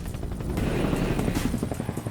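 A helicopter flies nearby, its rotor producing a continuous rapid chopping throb over a broad engine roar, steady and fairly loud for a couple of seconds.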